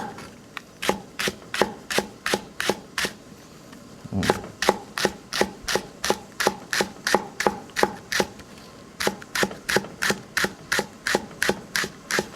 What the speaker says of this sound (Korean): 두 개를 잡고 이렇게 썰어 주시면 됩니다